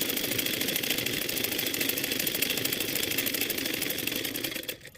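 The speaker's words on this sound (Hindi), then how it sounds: "इस तरीके से डबल फोल्ड करते हुए पूरी पट्टी पर मशीन चलाएंगे।" A sewing machine runs steadily, stitching a double-folded strip for a blouse, its motor buzzing with a fast, even rhythm close by before stopping near the end.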